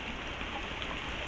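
Heavy rain pours down steadily on an outdoor spot where runoff flows toward a fish pond, a dense, continuous loud hiss close by with no talking.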